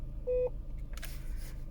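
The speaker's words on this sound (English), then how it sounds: "If you hold the settings button down, eventually you'll hear a beep." A single short electronic beep from a Vauxhall Astra H car radio, clear and close, followed by faint background hum and a brief rustle.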